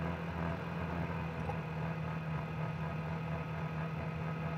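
A Freedom Scooters Veracruz 150 scooter engine burbles along at a steady low hum while riding on a broken road, an even, moderately quiet drone with a constant pitch and no speech.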